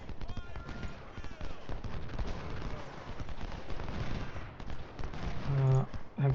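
Musket volleys crackle throughout a Civil War battle in Ultimate General: Civil War, a steady mass of scattered shots and rumble sitting in the background at moderate level under game noise.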